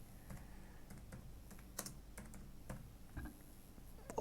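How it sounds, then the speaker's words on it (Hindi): Keystrokes on a computer keyboard as a company name is entered into an online form, a quiet, irregular run of clicks with a few louder taps, heard alone without speech. "नीचे अगेन आपने रीटाइप करना है"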